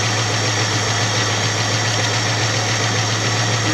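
A 1966 Ford Mustang with its 289 V8 idles steadily up close, a continuous low rumble with a faint mechanical tick running through it and no voices.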